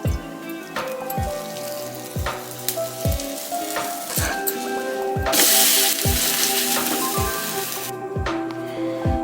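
Besan dosa batter with onion and green chilli frying in oil on a pan, with a loud crackling sizzle and a steady series of sharp ticking pops, as though rain were falling on a surface.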